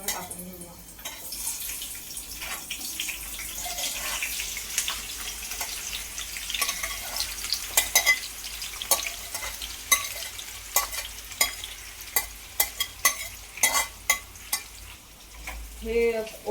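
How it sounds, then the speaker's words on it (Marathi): Chopped onions fry in hot oil for a dhaba-style chicken tikka biryani, a steady broad sizzle with repeated sharp stirring scrapes and clacks of a spoon against the pan growing through the second half, no talking. "तेल ठेवलंय तापायला. त्याच्यामध्ये आपण कांदा थोडा टाकून घेऊया"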